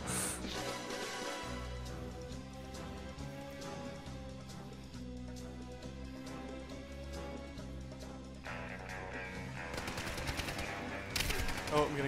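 Video game gunfire crackles in repeated bursts over a pulsing background beat, steady shots through most of the stretch and growing louder and denser toward the end.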